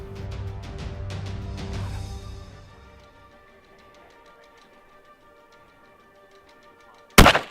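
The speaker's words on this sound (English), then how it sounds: "He made a great shot." A single sharp rifle shot fired at a red stag in New Zealand at about 270 yards, loud and abrupt, coming after a stretch of quiet outdoor ambience and some earlier faint talk.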